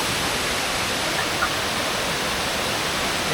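Sai Yok Noi waterfall in Kanchanaburi, at its third and final tier in the rainy season, gives off a steady, dense roar of rushing water, constant and unbroken with no voices.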